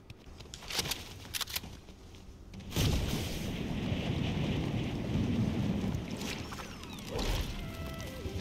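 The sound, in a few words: loud glider flying in the video game Fortnite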